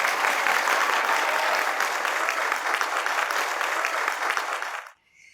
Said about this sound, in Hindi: अब अपने लिए तालियां बजा दें।